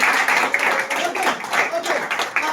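A church congregation claps steadily, with many hands blending into sustained applause and a voice or two faintly underneath.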